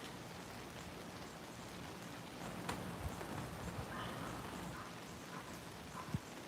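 Steady rain falling and pattering on surfaces, a soft, even hiss with scattered louder drops and occasional knocks, quiet and continuous with no voices.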